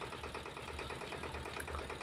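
A 14 HP engine drives an oil expeller machine, giving a steady, continuous mechanical drone with a rhythmic rattling pulse, close and constant throughout, with no speech.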